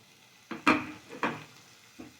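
Snails (gugli) frying in oil in a pan are stirred, producing a few distinct scraping clatters of the spoon against the pan over a faint sizzle, close and spaced apart.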